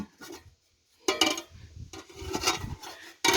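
Aluminium pots and a lidded frying pan scrape and clatter close by in a few short bursts separated by brief pauses.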